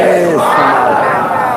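A crowd at a Muharram majlis gathering chants a slogan in unison, a loud, sustained roar of many voices rising and holding for over a second.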